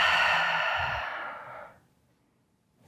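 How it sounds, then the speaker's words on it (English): One long, deep exhale through an open mouth during a guided relaxation exercise, a loud breathy rush that slowly fades into near silence. "Open your mouth, exhale."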